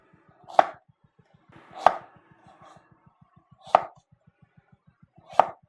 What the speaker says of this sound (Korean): 반으로 잘라서 5mm 두께로 어슷하게 썰어 주겠습니다.